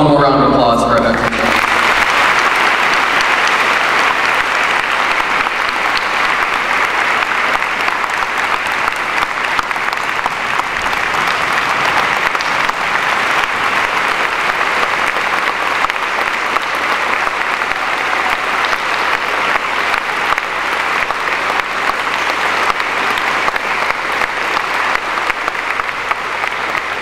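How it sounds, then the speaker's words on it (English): A large crowd at a Memorial Day ceremony applauds loudly and steadily, a dense continuous wash of clapping that holds at full strength throughout. "Let's have one more round of applause for Rebecca."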